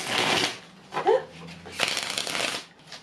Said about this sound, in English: I just realized I shuffled it with the faces facing me rather than the backs facing me.